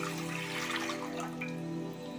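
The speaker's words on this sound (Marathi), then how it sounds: "आणि या पातेल्यामध्ये पाणी घालायचंय" Water is poured into a steel cooking pot on a gas stove, a continuous splashing, gurgling stream with a slight ringing resonance, heard alone at close range.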